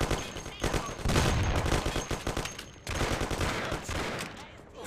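Gunfire from the video game Mafia crackles in dense, rapid bursts, loud and close, with a brief lull in the middle before the shooting resumes.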